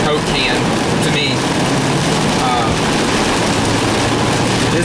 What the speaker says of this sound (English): you can hear how loud the rain is on the roof